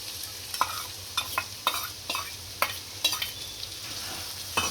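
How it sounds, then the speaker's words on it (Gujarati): Chopped onions are added to garlic frying in a pan for a dhaba-style kaju masala, sizzling steadily up close while a spoon stirs and scrapes the pan in several sharp strokes. "હવે આપણું લસણ સડી ગયું છે, આ કાંદા નાખીશું કાપેલા।"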